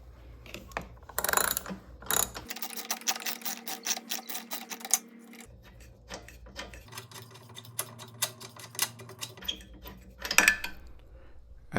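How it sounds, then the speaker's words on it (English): A 13/16 socket wrench undoing a lawn mower spark plug gives rapid, close ratcheting clicks in bursts, with short pauses and a few sharper metallic knocks between runs. "in my case it's a 13/16 socket for my spark plug, and just gently undo it"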